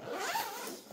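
A zipper is drawn shut on an embroidery pouch, one smooth continuous rasping pull lasting about a second, close and clear.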